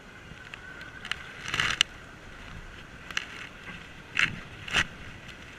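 Kayak paddle strokes in water during a coaching session, a series of soft splashes and creaky knocks of varying strength, the clearest two near the end, over a faint outdoor hush.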